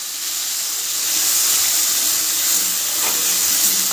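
Ginger paste dropped into hot oil in a pan with fried potatoes for a vegetarian paneer dish, a loud continuous sizzle and hiss that swells slightly and holds steady, with no talk.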